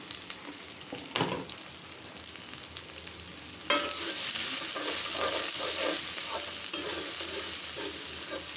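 Onion, green chili and garlic sizzle in hot oil while a spoon stirs them steadily, with a louder burst of frying near the middle that keeps up a continuous hiss under repeated scraping strokes.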